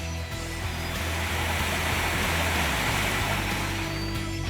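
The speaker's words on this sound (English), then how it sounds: "Also, add to all of this are waterfalls." A waterfall pours with a steady, dense rushing roar that fills the scene evenly from start to finish, loud and unbroken, with no voices.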